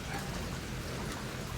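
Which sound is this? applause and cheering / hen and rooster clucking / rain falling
rain falling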